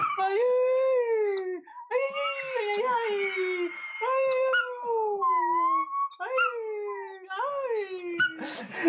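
A dog howls in long, wavering, song-like wails, several rising and falling phrases close by, with short pauses between them and a brief noisy burst at the end.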